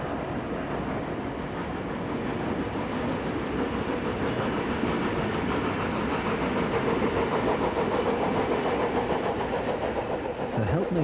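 A Swiss De 6/6 "Crocodile" electric locomotive built in 1926 hauls a train, with a steady, moderately distant rumble and faint rail clatter running continuously without pause.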